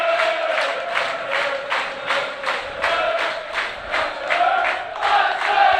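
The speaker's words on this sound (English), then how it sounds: "Got the crowd up now as well, Barry" Football crowd at a Coleraine match against FK Velez Mostar roaring and chanting before a corner kick, rising and falling in rhythmic surges, loud and continuous with no talk over it.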